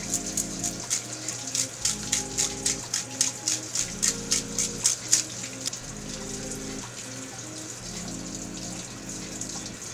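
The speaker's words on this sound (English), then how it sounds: "the cavity is rinsed under running water" Running water from a tap rinses the gutted cavity of a madai sea bream during sushi preparation, a steady splashing stream with rhythmic pulses under quiet background music.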